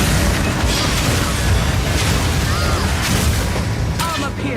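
Incendiary crossbow bolts exploding in Path of Exile 2, a dense run of booming blasts and fiery bursts layered over game music and effects, loud and continuous across the clip.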